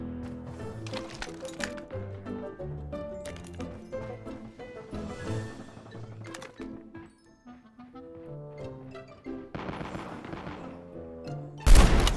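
Gunfire in the Call of Duty Mobile video game, with scattered shots and bursts among game music and effects, dense and moderately loud, ending in a sharp loud blast.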